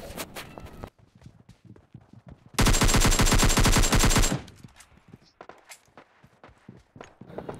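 Gunfire rings out during a fight in a battle royale video game: one dense rapid-fire burst of nearly two seconds, loud and close, framed by quieter footsteps and clicks.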